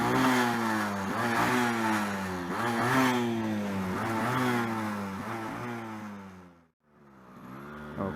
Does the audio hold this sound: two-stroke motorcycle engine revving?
yes